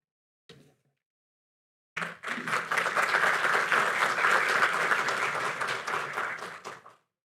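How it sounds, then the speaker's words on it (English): Sustained applause from a crowd at an interfaith iftar in a mosque, steady and full for about five seconds before stopping abruptly, preceded by a brief isolated clap or noise. "Another round of applause for the pastor."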